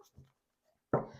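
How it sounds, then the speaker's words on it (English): A Wild Reflections tarot deck gets a quick shuffle: after near silence, one short, close burst of riffling card noise that fades over a fraction of a second. "I'm going to grab Wild Reflections over here, give that a quick shuffle through."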